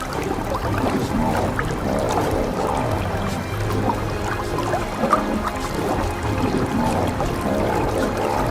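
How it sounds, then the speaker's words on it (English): Lionesses splash water at a Nile river bank, making a continuous close wash of sloshing and splashing with small irregular bursts and no voices. "They create noise, splash water."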